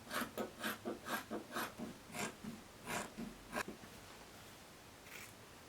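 Scissors cut through fabric for a flared sewn skirt, giving about a dozen crisp, rhythmic snips over the first few seconds, close and fairly soft, before fading into quiet room tone.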